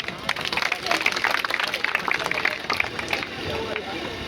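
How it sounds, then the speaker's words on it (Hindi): Applause from the audience at a Hindi kavi sammelan poetry gathering: dense, steady clapping with crowd murmur runs the whole stretch, loud and close, tapering slightly near the end. "यार बजाओ, तालियां बजाओ सब लोग एक बार।"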